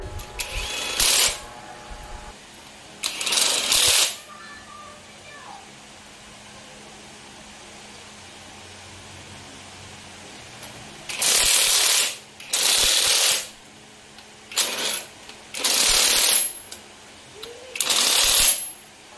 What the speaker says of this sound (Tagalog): ilalagay muna natin yung mga tornilyo